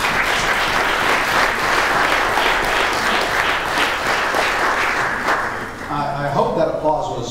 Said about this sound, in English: I hope that applause was for Gianni